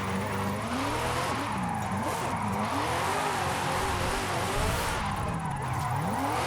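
A Porsche in Forza Horizon 5 drifting and sliding on the handbrake, its engine droning steadily while tires squeal in wavering, rising and falling tones, continuous and close with no talking.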